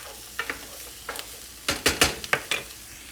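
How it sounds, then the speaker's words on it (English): Peppers and onions frying in oil for chili as they are stirred, a low sizzle broken by a run of sharp scraping strokes that grow louder and quicker toward the end. "Give it a good stir and get that all coated with the oil"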